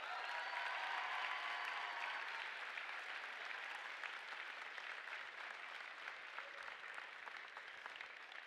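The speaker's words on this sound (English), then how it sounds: "Another round of applause for our Connect Award winner" Applause fills a robotics tournament venue as an award winner is honored: steady crowd clapping, somewhat distant and moderately quiet, with a voice speaking over it during the opening seconds.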